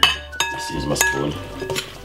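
A spoon clinks and scrapes against a bowl while tossing rice salad dressed with olive oil, a few sharp metallic taps followed by softer mixing scrapes, close by, with light voices in the background.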